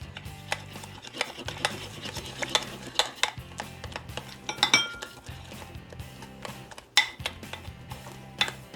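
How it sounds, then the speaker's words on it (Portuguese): Cupcake batter with eggs is beaten by hand in a bowl, a spoon clinking and scraping against the sides in a quick, irregular rhythm, close and clear with faint background music. "Bater na mão mesmo, não precisa de liquidificador"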